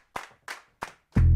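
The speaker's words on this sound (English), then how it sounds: "So I want my theme song to have this kind of clapping thing going through" Three crisp hand claps in a steady even rhythm, close and dry, for a homemade theme song, followed by a sudden burst of loud low bass.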